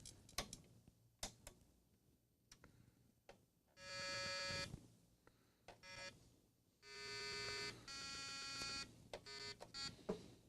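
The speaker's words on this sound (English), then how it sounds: "Well, it just beeped." A 1978 Simon electronic game sounds a few sustained buzzy beeping tones among scattered clicks and ticks. The tones are fairly close and moderately loud, with no talk over them.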